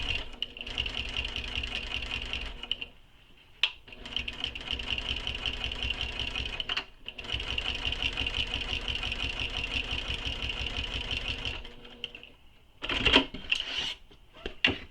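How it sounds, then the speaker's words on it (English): A sewing machine stitches fabric for a circular bag with a walking foot. It runs in long, steady, rapid mechanical runs, with short pauses and a few clunks between stitching bursts, close up and with no talk. "So I'm just stitching along those lines"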